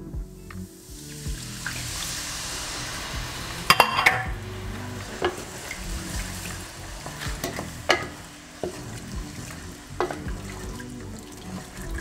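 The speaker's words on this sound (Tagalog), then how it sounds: "Ayan, haluin nyo ulit." Flour and water sauce being stirred in a pan for creamy garlic pepper beef with mushroom, a steady scraping and sloshing texture with a few sharper clinks of the utensil against the pan, close and continuous, with no talking.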